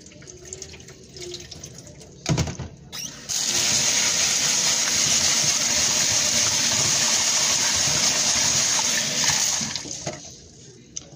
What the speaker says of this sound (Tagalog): I-drain ko lang tapos papalitan ko ng tubig.